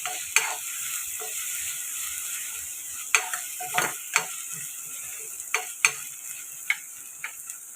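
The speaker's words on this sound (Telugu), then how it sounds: "ఇది కూడా కలుపుకొని టమాటా మెత్తపడిన దాకా మగ్గించుకున్నాం." A spoon scrapes and clinks at irregular intervals against a pan as tomatoes and masala cook for a spicy egg karam pulusu, over a faint, steady sizzle with no voices.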